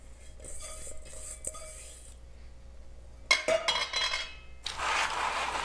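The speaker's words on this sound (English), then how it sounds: "now we're just going to dump them on a lined baking sheet" Oil-coated almonds clatter out onto a lined baking sheet in a quick rattling pour, followed by a busier scraping and shuffling as the nuts are spread across the pan, all close and fairly soft.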